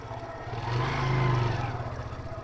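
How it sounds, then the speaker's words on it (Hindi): A motorbike rides along a snowy mountain road, its engine droning steadily with a rise in revs and loudness near the middle before easing back. "ठीक चल रही है बाइक, कोई दिक्कत है नहीं उतनी।"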